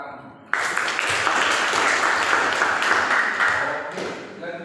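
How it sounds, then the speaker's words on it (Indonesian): A classroom bursts into applause after a group presentation. Dense clapping from many hands starts abruptly after a short quiet lead-in, then holds loud and steady before tapering slightly at the end. "kita kasih tepuk tangan"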